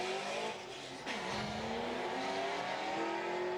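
A Ford Mustang and a Dodge Charger drag racing down a quarter-mile strip, a continuous loud engine roar with rising revs heard from the track side, no talking.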